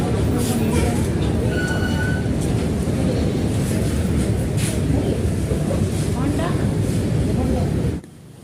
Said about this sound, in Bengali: স্টেশনে 1 ঘন্টা ওয়েট করার পর ফাইনালি ট্রেন এসেছে